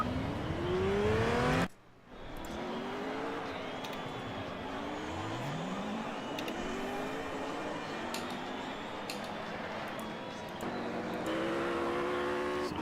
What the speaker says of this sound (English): Oh, these cars sound so nice.